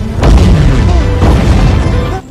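Loud booming explosion in a film, two heavy rumbling blasts in quick succession with crackling debris, filling the clip before cutting off sharply.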